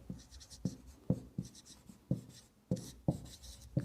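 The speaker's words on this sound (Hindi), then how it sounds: "तो पहले हम उसका सूत्र लिखेंगे" A pen writes a formula by hand on paper, close and quiet, in short scratchy strokes with small taps between them, irregular but steady, with no voices over it.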